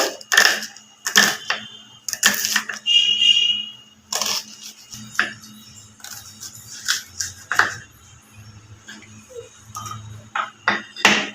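Onions being finely chopped with a knife while cooking an egg and potato dish, heard as sharp, irregular bursts of close chopping strikes with short pauses between them.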